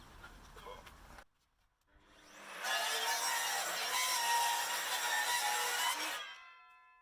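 A mitre saw winds up and bites through silver birch wood for several seconds, a loud steady cutting whine with rasping texture, then spins down; a brief quiet gap precedes it.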